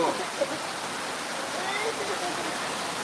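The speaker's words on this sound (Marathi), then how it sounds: "खूप मोठ्या प्रमाणात पाऊस सुरू आहे" Torrential cloudburst-like downpour at Pirachi Kuroli, a dense, steady roar of heavy rain filling the whole stretch at an even, loud level.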